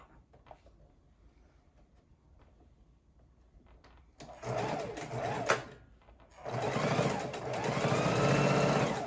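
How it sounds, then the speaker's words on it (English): A sewing machine stitches a quarter-inch seam on an ergonomic bone-shaped pillow, running in two steady motor-driven bursts after a quiet start, the second longer and louder, close up with no speech. "we're sewing our 1/4 inch seam"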